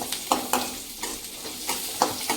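Cumin and pepper sizzling in a pan for Tamil brinjal kuzhambu, being stirred, with soft scraping strokes coming at a steady rhythm over a constant low frying hiss, close and moderately quiet.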